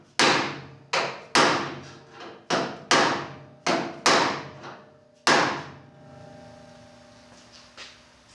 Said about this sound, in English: use this edge of the hammer, or the body hammer, put it in the radius